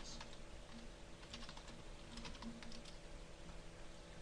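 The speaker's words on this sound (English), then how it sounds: "I'm going to type Ecstasy Productions." Keystrokes on a computer keyboard as text is entered in graphics software, a quiet run of irregular taps over a faint steady background hum, with no voices.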